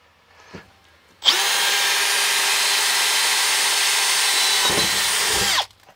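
A power drill whirs loudly and steadily for about four seconds close by, driving a fastener into a sirocco fan bracket, then winds down and stops.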